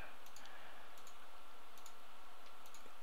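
Computer mouse clicking during work in Floriani embroidery software: faint, sharp clicks in small clusters at irregular intervals over a quiet room hiss.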